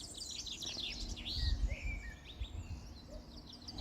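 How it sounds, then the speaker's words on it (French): Several birds sing outdoors, with high, quick chirps and whistled trills that overlap and repeat over a soft background rumble, and no voices are heard. "ces oiseaux."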